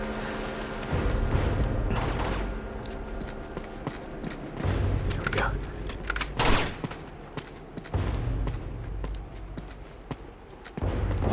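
Sniper gunfire in the video game Uncharted 2 (PS3): repeated loud rifle shots and sharp cracks over a dense, rumbling battle bed, with several bursts close together near the middle.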